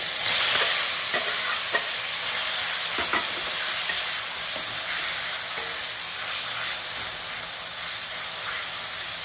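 Tomatoes fry in a pan for a chutney, giving a steady broadband hiss and sizzle that runs the whole time, with faint scattered pops and clicks close by.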